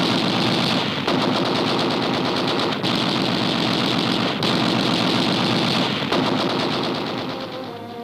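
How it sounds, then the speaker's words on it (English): Heavy rapid gunfire from a World War II destroyer rattles in continuous bursts at a crippled submarine on the water, loud and dense, tapering slightly at the end. "a torrent of gunfire is turned on the crippled sub"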